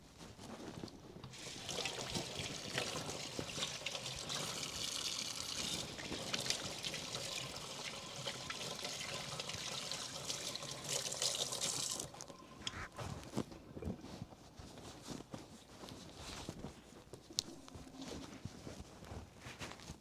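Hands washed under a running kitchen sink tap, a continuous close rush of water for about twelve seconds, then the flow stops and a few soft knocks and handling sounds follow, no talk.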